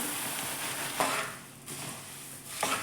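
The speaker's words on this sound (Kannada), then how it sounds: "ಇದನ್ನು ನಾನು ಚೆನ್ನಾಗಿ ಮಿಕ್ಸ್ ಮಾಡ್ಕೋತೀನಿ" Puffed rice (mandakki) and turmeric are stirred in a pan with a steady soft sizzle and crackle, broken by a few louder scraping strokes of the spoon.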